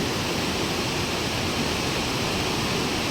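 The Saraswati river flows beside the Moksh Pipal tree at Prachi, a steady, dense rush of water that holds unbroken at even loudness throughout, with no voices over it.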